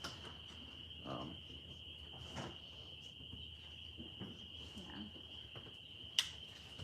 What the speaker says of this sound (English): Can you guys hear the tree frogs in the back?